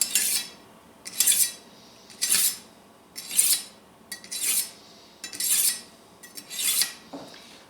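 A knife drawn through a manual knife sharpener, eight rhythmic bright scraping strokes about a second apart, each a short rasp of blade on abrasive, close and alone with no talking.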